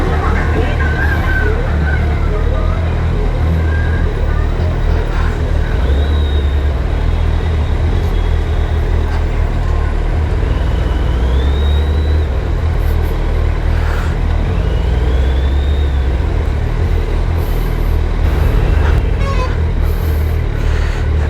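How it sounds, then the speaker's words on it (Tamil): Dense, loud highway traffic fills a bridge, with cars, trucks and buses rumbling past continuously, engine drone and road roar throughout and a few faint brake squeals or horns cutting through, with muffled voices underneath. "பிரிட்ஜு ஃபுல்லாகவே சரியான டிராஃபிக்காக இருக்குங்க"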